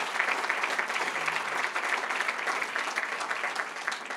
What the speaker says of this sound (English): please give Charlie Shaver and all the folks from Axalta a big, big round of applause